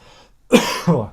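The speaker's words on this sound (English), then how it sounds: "isn't a cough" Two quick, close coughs, the first sharper and louder, the second softer, like a throat being cleared.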